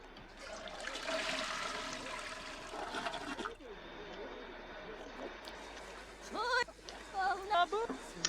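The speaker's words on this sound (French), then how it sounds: "Elle chante sous la douche" A Sims 4 character sings in the shower with water running, a steady spray for the first few seconds, then wavering sung syllables in the game's gibberish voice that grow louder toward the end.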